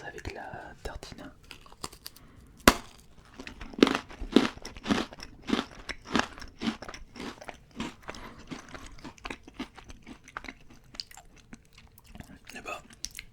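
Close, crisp crunching bites into toast topped with melted blue cheese, followed by steady moist chewing with sharp crackly transients, with soft whispering in between.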